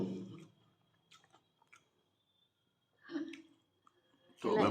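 Close, quiet chewing of fried snacks such as bara and pakodi, soft crunchy bites separated by near silence, with brief speech at the start and end.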